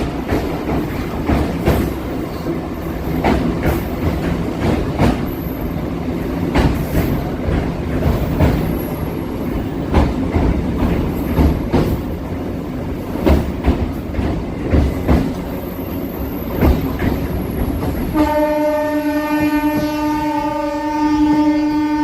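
A MEMU passenger train runs past Korukonda railway station without stopping, wheels clattering loudly and rhythmically over the rails for a long stretch before a sustained horn blast sounds near the end.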